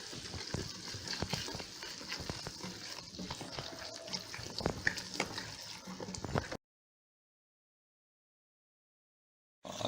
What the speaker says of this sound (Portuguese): Primeiro eu vou mexer.